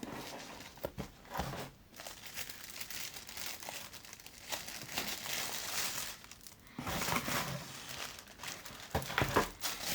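Green tissue paper is pulled from an Easter box, giving soft, close crinkling and rustling in uneven bursts with brief pauses between handfuls.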